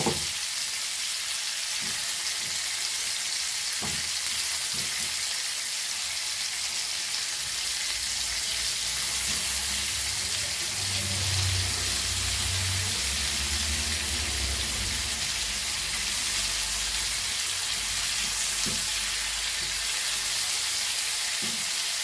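Stuffed recheado prawns frying in a pan, a dense continuous hissing sizzle lasting the whole stretch with faint low bubbling and occasional small pops, no talking.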